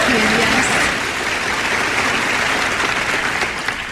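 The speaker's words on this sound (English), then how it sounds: "Applause for 2 years." A comedy club audience applauds warmly, a broad, even wash of many hands clapping that stays loud throughout and tapers slightly toward the end, with a voice faintly mixed in.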